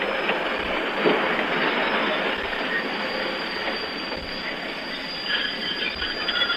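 A train runs on its rails as a radio drama effect, a loud continuous rumble with squealing wheels and faint rhythmic clacking, heard alone without voices.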